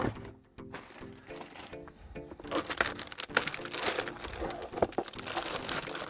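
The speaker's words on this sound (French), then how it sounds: "on a un petit papier, petit papier de protection à retirer" Protective paper crinkles and tears as it is peeled off a Corsair K95 RGB Platinum wired gaming keyboard, with close, irregular crackling and rustling bursts.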